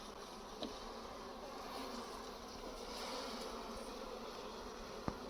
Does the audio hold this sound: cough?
no